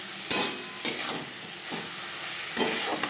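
Onion, tomato and spices for a Bhola bhetki fish curry are sautéed in fish oil in a pan, giving bright bursts of sizzling as the mix is stirred in a few distinct strokes, close and loud with no talking.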